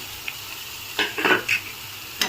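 Chopped beetroot tipped into a pan of fried onions and green chilli for a beetroot fry, giving a few short bursts of sizzling and scraping stir strokes, close and fairly loud, with no talk.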